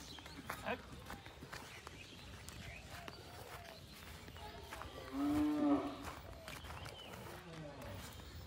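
A Qurbani cow gives a single drawn-out moo midway through, close by, amid a busy livestock-market atmosphere with voices and shuffling in the background.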